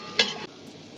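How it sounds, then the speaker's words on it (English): Garlic, ginger, celery and onion hit a hot pan for sautéing, giving a short, sharp sizzle burst that dies back after a moment to a faint, quiet frying hiss. "Now I will saute them."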